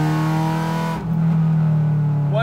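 An older Honda Civic hatch with a Pandem widebody kit revs close by with a loud, buzzing engine drone that dips briefly, as at a gear change, then settles into a steady pull.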